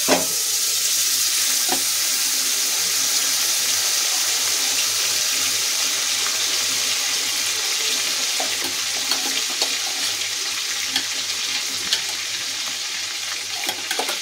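Steady sizzling and bubbling of cream cooking in a hot pan with occasional scraping of a utensil stirring, close and continuous, no voices.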